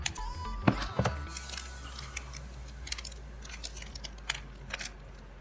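Magic: The Gathering Kamigawa Neon Dynasty set booster packs being torn open and cards handled, a few sharp crinkly rips followed by soft rustling and flicking of foil wrappers and cards, close up.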